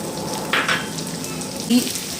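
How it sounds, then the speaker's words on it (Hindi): Gond (edible gum) frying in hot ghee for flaxseed laddu, a steady close sizzle and crackle with a few brief louder bursts as it puffs up, no talking. "अब इसी घी में जो है मैं अपनी ये गोंद डाल दूँगी।"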